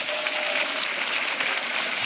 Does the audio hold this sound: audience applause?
yes